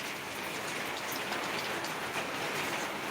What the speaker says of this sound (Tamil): மழை சவுண்ட். ஆமாம், இப்போதான் ஹெவியாக பெய்யுது.